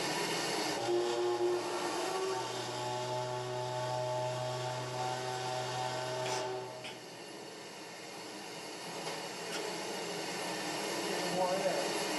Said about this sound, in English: you hear the ship's whistle blow because they're pulling out into the channel